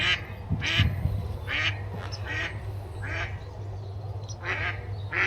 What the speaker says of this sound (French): C'est quoi ces canards allemands là?